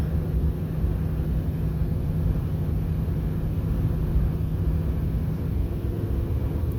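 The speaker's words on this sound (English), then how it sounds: "It's driving up this hill just fine." A 2003 Dodge Ram truck climbs a hill, its engine a steady, continuous low rumble with road noise that holds level and unbroken throughout, with no voices.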